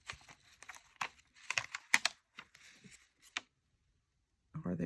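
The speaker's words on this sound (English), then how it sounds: "So I am going to take my scissors and hopefully cut this in half" Scissors snip through a craft piece in a series of short, close, crisp cuts with brief pauses between them, followed by a moment of quiet and then a voice starting to talk.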